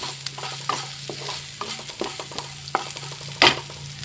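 Onions and salt stirred and sautéing in a pan, with a steady sizzle broken by scattered scrapes and clicks of the spoon and one louder scrape near the end; no voices.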